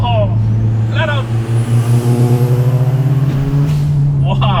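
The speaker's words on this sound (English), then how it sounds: "Let's give it a 4th gear pull, and let's see how much is maximum power." A track-built Subaru WRX STi on a full-throttle fourth-gear pull. The engine drones loud and close with a steadily climbing pitch, while a voice breaks in excitedly over it at the start, middle and end.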